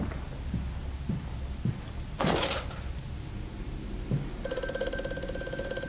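An old telephone rings in the horror game Amnesia: A Machine for Pigs, a bright sustained bell tone entering near the end after scattered knocks and a brief burst of noise in a quiet room.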